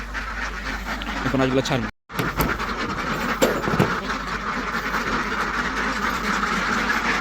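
Ducks on a duck farm of about a hundred birds quack in a busy, continuous chorus close by, with someone talking over the flock and a brief dropout early on.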